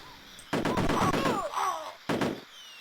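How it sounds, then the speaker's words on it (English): A building is blown up in the Amiga game Cannon Fodder: a loud crunchy blast with descending whistling tones, then a second short explosion burst. "then we're going to blow the building up."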